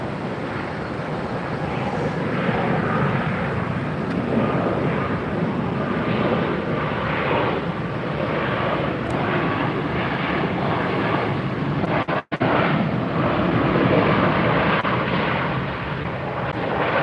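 Airliners at Tampa International Airport, heard as a steady, broad jet engine roar that holds at a constant level throughout, with wind buffeting the microphone and one brief dropout near the end.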